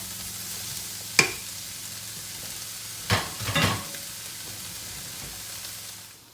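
Washed beans fry in a pan with onions, peppers, scallion, jalapeno and thyme, a steady sizzle interrupted by a sharp utensil clink and then a short burst of stirring scrapes, close, without speech.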